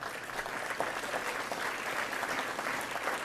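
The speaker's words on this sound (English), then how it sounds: "See how one guy started clapping?" Faint applause at a conference speech by Governor Christie at the George W. Bush Institute, a soft, steady patter of clapping heard from a distance in a large hall.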